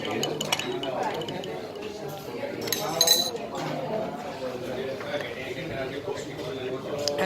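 Spoon clinking against a glass while stirring cafe con leche sweetened with condensed milk, a few bright chinks over steady room chatter and nearby talk.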